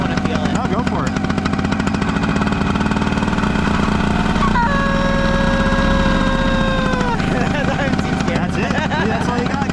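A small whimsical flying machine's engine runs loud and rough at full throttle for takeoff, a constant buzzing drone with a rising whine in the middle, while people talk and shout over it.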